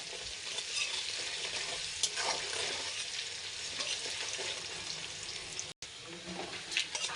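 Onions frying with garam masala in a pan for a chicken curry with potato and yogurt, giving a steady, close sizzle with bursts of stirring and scraping throughout.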